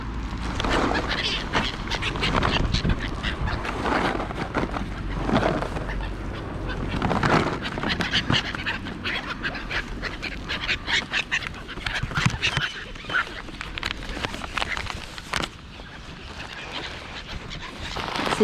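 A busy flock of ducks and geese being fed nuts, honking and quacking close by, with scattered voices and rustling mixed in throughout.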